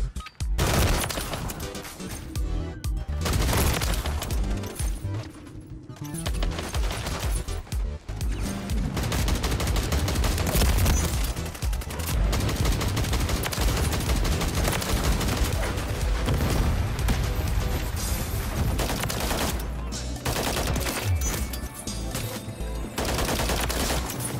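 Dense, loud hip-fire gunfire from the SOA Subverter in Call of Duty: Modern Warfare 3, with rapid automatic bursts and booming shots running almost without pause through a chaotic multiplayer match.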